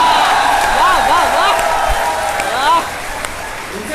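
Audience applause at a Hindi kavi sammelan poetry gathering in Hathras, a dense wash of clapping from a crowd, loud and sustained, fading slightly toward the end.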